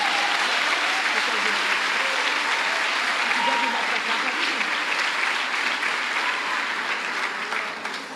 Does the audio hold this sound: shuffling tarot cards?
no